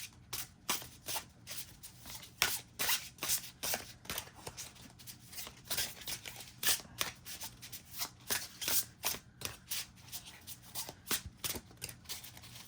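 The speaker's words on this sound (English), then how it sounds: "let's give this a good shuffle" A deck of tarot cards, the Five Cent Tarot, is shuffled steadily for about twelve seconds, with quick riffling bursts and soft flicks following one another in an uneven rhythm, close and fairly quiet with no talking.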